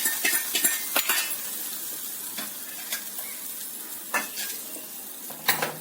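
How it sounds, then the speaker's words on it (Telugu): Fried tempering with dried red chillies hits a pot of chana dal gongura curry with a soft sizzle, while a spoon clinks and scrapes against the vessel in sharp, intermittent taps. "ఈ వేగిన తాలింపుని మనము పులుసు కూరలో వేసుకుందాం"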